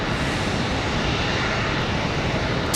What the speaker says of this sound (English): Off to Chicago O'Hare, an A320.